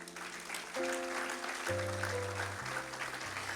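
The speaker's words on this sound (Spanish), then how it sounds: "Denle un aplauso a Dios" Church congregation applauds during a Spanish-language sermon, soft continuous clapping blended with sustained music chords that shift a few times.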